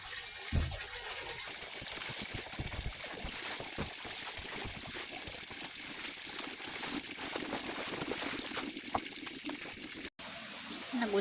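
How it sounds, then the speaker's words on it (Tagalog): Steady rain pouring and splashing outdoors, a continuous hiss with water gushing, loud throughout, with a few knocks and brief sounds of people nearby. "Nagulan naman."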